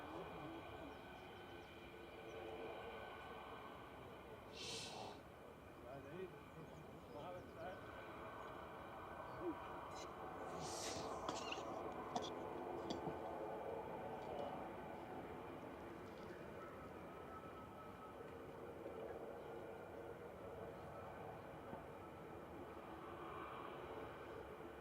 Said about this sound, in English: Air France operated by Air France Hop coming in from Paris Charles de Gaulle